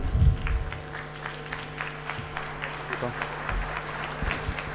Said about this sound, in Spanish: Recibamos con un fuerte aplauso, por favor, al máster Nabil Chávez Majouf